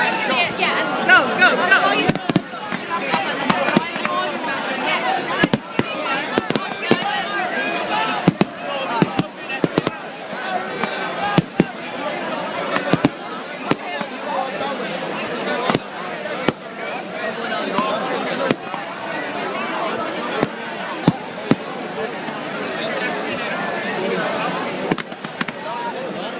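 Fireworks burst at an outdoor concert at Slane, with sharp, scattered bangs ringing out over constant crowd hubbub, while people nearby talk throughout.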